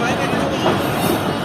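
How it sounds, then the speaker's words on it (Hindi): A train slowly switching from the platform line onto the main line at Mirpur Khas station, a low rumbling roll with faint wheel and rail noise, close by and steady over the short moment. "ट्रेन आहिस्ते आहिस्ते ट्रैक चेंज कर रही है, प्लेटफॉर्म लाइन से मेन लाइन पर आ रही है।"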